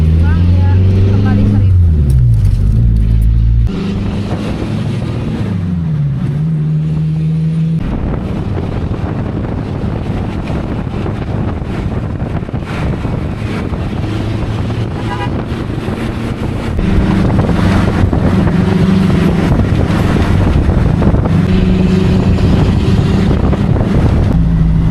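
Engine rumble and road noise from inside a crowded yellow angkot minibus on the way to Padalarang station, with gear changes, wind buffeting on the microphone and people talking throughout.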